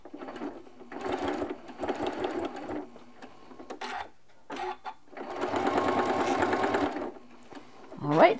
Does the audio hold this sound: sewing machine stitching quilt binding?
yes